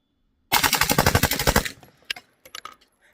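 A PSA AKV rifle fires a rapid string of about a dozen shots in just over a second, loud and close, followed by a few scattered mechanical clicks and faint rattles.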